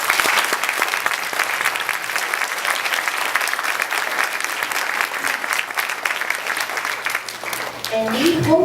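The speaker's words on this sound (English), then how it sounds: "so can we give them a round of applause?" A school assembly crowd at Palermo Elementary bursts into loud, steady applause that holds at full strength throughout, a thick wash of many hands clapping together, with faint voices and cheering mixed in.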